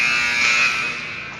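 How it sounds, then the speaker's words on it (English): End-of-period buzzer at an NDCL vs Clay game, one sustained loud electronic buzz that holds steady and then fades slightly, over faint crowd ambience. "But the buzzer sounds, and Cowell puts a highlight up for himself"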